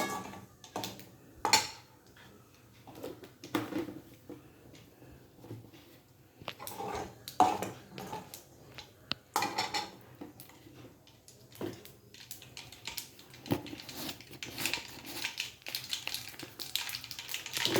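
Mustard seeds spluttering in hot oil: scattered sharp pops and crackles, some in clusters, over a faint steady frying hiss, with occasional clinks of utensils against the pan.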